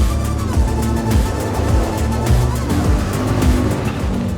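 A vehicle drives off-road across the Baja desert with a loud, rough engine drone and rattling bumps, close and continuous.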